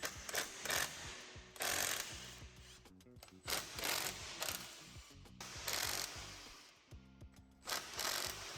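Ratchet loosening a drive shaft bolt on a car during a DSG transmission swap: bursts of repeated mechanical clicking in short runs separated by brief pauses, fairly close.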